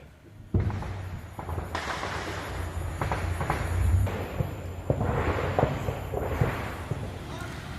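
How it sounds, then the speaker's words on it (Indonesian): Artillery fire near a village on the Thailand–Cambodia border sounds as a sustained, rumbling roar with repeated heavy thuds. It starts abruptly and stays loud and dense under a voice speaking throughout. "Suara artileri terus terdengar di sekitar desa."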